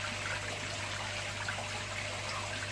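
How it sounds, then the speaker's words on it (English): Water trickles and drips through Matten filter media in a shrimp tank, a steady soft splashing hiss with a low hum underneath, continuous and even throughout, no voices. "it's going to drip back in now"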